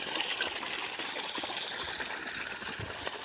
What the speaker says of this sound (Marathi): अशा प्रकारे पाणी चालू आहे.